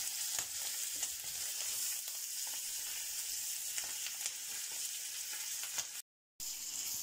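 Steady loud sizzling of a whole chicken frying on its side in a pan, continuous crackle and spatter throughout, briefly cutting out near the end.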